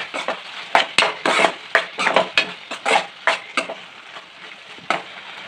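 A spoon scrapes repeatedly through ridge gourd curry in a pan as chili powder is mixed in, giving a close, uneven rhythm of stirring strokes and soft clinks over a light sizzle.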